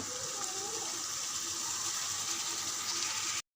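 Steady rushing of water pouring into a cooking pot of aloo dum, a continuous broadband hiss that holds evenly for over three seconds before cutting off abruptly.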